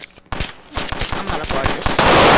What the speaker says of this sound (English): They shot me. I will shoot him back